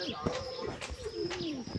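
A female black pigeon coos close by in soft, low, repeated throaty calls, with faint background noise.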